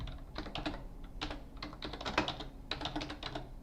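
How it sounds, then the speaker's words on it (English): Quiet, irregular clicking of fingers typing on a computer keyboard, short bursts of keystrokes with small pauses between. "Let's type it in."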